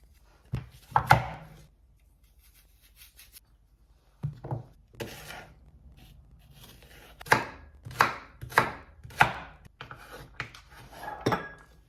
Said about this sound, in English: Now you're gonna start slicing into thin slices. Carrot.